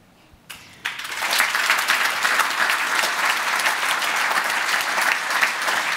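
Audience applause after a parliamentary discussion event, starting after a brief quiet moment and rising into steady, dense clapping from a large crowd that continues evenly to the end.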